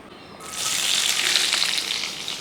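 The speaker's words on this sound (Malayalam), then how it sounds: "ആദ്യം തന്നെ ഇതുപോലെ അരിച്ച് വെച്ചിരിക്കുന്ന സവോള അങ്ങോട്ട് ഇട്ട് കൊടുക്കാം" Sliced onions dropped into hot oil in a pan, starting as a sudden loud sizzle that settles into steady, crackling frying close by, with no talk.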